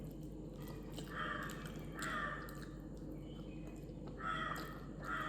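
A crow caws in the morning, three drawn-out bursts at moderate distance over a steady low background hum.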